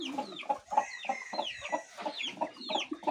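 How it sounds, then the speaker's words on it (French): A Brahma hen clucks steadily alongside her two chicks, whose high thin peeps flutter over the low rhythmic clucks, close but soft, with no talking. "Ici j'ai une poule Brahma avec 2 petits poussins Brahma."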